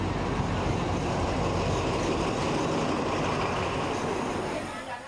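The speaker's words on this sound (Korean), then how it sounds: "아, 이제 기차가 도착하고 있습니다." A train pulls into a station on a Thailand railway with a loud, steady rumble of wheels and carriages that continues throughout, then thins out slightly at the very end.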